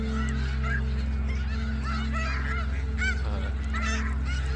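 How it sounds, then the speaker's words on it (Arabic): A big flock of ducks honks continuously and loudly nearby, many overlapping calls forming a steady noisy chorus with no talking. "مش متخيلين كمية البط قد ايه"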